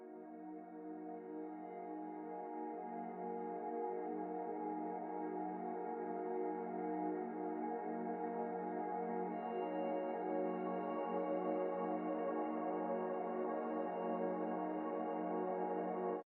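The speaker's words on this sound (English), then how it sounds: "I have a couple guitar pedals that I like to mess around with, and I came up with this drone sound here." Sustained ambient electric guitar drone shaped through guitar pedals, a dense layered tone that holds steady at moderate level for the whole stretch with no talk.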